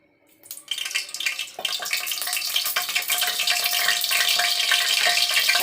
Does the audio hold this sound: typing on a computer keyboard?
no